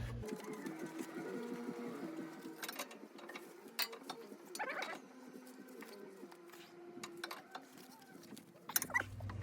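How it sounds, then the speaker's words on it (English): A jam nut is tightened on a front-axle trac rod of a 2008 GMC Topkick C5500 truck, giving a run of close mechanical clicks and scraping ratchet-like ticks with a few sharper knocks, moderately quiet and with no talking. "Now we'll tighten up our jam nut."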